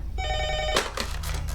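A telephone rings with a bright, warbling electronic trill for just over half a second, then gives way to a brief clatter and muffled rustling.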